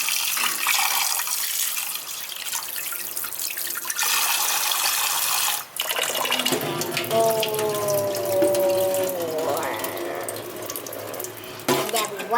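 Rice washed under a running kitchen tap, a steady loud rush of water with splashing and swirling in the bowl, a brief break midway, then rippling and dripping as the grains are stirred.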